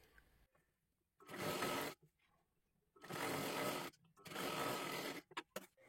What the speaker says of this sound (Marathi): इथे पूर्ण शिलाई करून घ्यायची आहे.